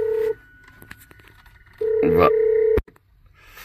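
Phone ringing through a car's 14-inch touchscreen tablet head unit connected over Bluetooth, two electronic tone bursts separated by a pause, clear and close inside the cabin.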